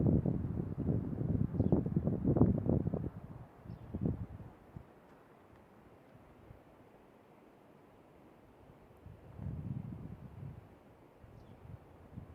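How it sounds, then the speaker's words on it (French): Wind gusts blow across a microphone outdoors on Amorgos island in Greece, a loud rumbling buffet at the start that eases into a steady hiss before another gust swells near the end. "Peut-être que vous allez entendre surtout le vent"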